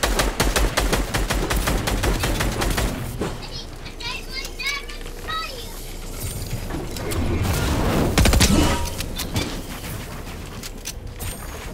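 Rapid submachine-gun bursts fire in a competitive online shooter match, loud and near, in clustered strings of shots over excited team voice chat.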